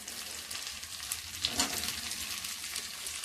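Slit green chillies and onion pieces frying in a pan, a continuous close sizzle with a brief louder crackling burst midway, no voices.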